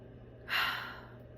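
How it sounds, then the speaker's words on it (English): One deep inhaled breath, a soft airy rush that swells and fades within about half a second, close to the microphone in an otherwise quiet room. "Deep breath in."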